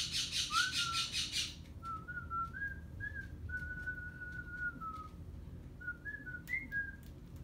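A Quaker parrot whistles a series of short, clear, rising and wavering notes, loud and close, with brief gaps between phrases over a low room hum.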